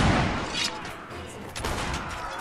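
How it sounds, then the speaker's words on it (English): Musket volley from a line of marksmen in the game Mount & Blade: With Fire and Sword: a loud, close, ragged burst of many overlapping shots that settles into a dense, continuous crackle of gunfire. "then just set them to fire at will."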